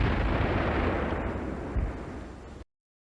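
The Gadget, the first atomic bomb test, detonates with a deep, sustained rumbling roar for over two seconds, carrying a heavy low-end swell midway, before cutting off abruptly into silence.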